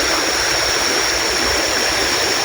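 A jungle river flows steadily in a dense, continuous rush of water, loud and close, with no voices.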